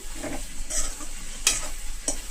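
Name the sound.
frying curry ingredients in a pan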